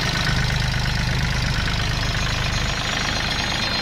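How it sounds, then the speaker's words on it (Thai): A 2009 Isuzu 3.0 direct-injection diesel pickup engine idles steadily up close, a loud, even low rumble with a faint knocking tick and no voices. "วันนี้เครื่องไดเรกอินเจคชั่นนะครับ เครื่องยนต์แห้งสนิทเลยครับ"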